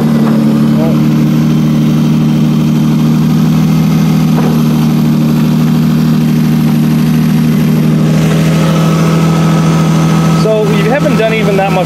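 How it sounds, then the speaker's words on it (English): A Toyota Avalon engine idles steadily up close with a low, persistent drone and a faint rhythmic knock from a worn bottom end, loud and continuous throughout. "This is a healthy sounding car. Other than the big knock in the bottom end,"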